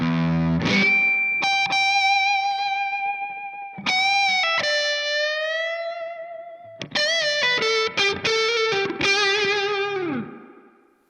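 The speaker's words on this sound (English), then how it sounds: "if we were to switch over to the distortion, you notice with that like a big reverb going on there" A Laney Lionheart loudpedal switched to distortion drives sustained, harmonically rich electric guitar notes and chords, each trailed by a big, lingering reverb wash, with a trill near the end before the sound fades out alone.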